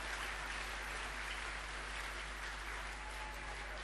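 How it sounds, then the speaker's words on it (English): A large audience at a member panel event applauds with a continuous, even wash of clapping, fairly distant and steady, with a low hum underneath. "First, a round of applause for that last foundation moment, please."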